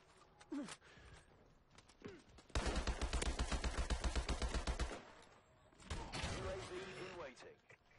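Rapid automatic assault rifle fire in the video game Call of Duty: Advanced Warfare, a loud sustained burst of about two seconds, plus a shorter burst later, with a voice heard around the shots.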